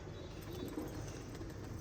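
Pigeons cooing softly at a pigeon keeper's loft, a faint low murmur with possible wing flutter and no voices.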